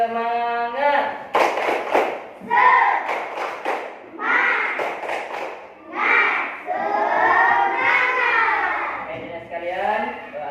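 Classroom of students doing a rhythmic 'tepuk semangat' clap, bursts of patterned clapping mixed with chanted group voices and a teacher speaking, close and lively with pauses between sections.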